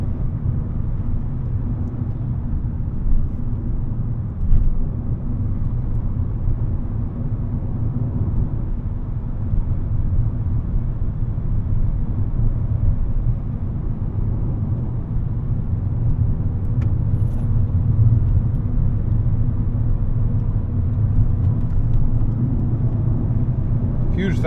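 A 2012 Volkswagen Golf with a 2.5L five-cylinder engine hums along a road, a steady low engine and tyre rumble from inside the cabin with no clear speech.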